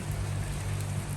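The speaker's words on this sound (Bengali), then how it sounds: "দেখুন বৃষ্টি হইতেছে অনবরত।" Steady, continuous rain falls at night in Bahrain, with water pooling on the street; a dense, even hiss runs throughout with a low hum beneath and no voices.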